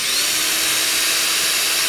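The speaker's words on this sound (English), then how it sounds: "we need to basically drill a little hole in here" A power drill bores a small hole in the housing of a DIY LED tube video light, a loud, steady whining and grinding held throughout, close up with no voices.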